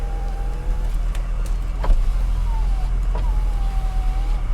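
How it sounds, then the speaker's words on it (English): Electric power windows on a 1989 BMW 325i whir up and down in short strokes, a thin motor whine rising and falling against a steady low idle hum, with a faint click at each stop. "Windows all operate and they're all power."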